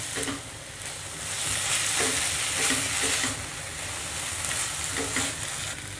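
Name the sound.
stirring chicken kabab mixture in pan on high flame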